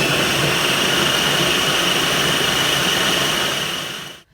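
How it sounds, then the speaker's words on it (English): A blender runs on chickpeas, sweet potatoes, salt, pepper and spices, a loud, dense, even whirring roar that holds steady for about four seconds before cutting off. "So they are all in the blender there."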